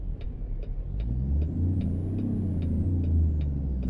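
A custom W900 truck with a Cummins N14 engine in American Truck Simulator rumbles low and steady, building into a heavy sustained roar with a rhythmic ticking and a rising whistle over it, close and loud with no talking.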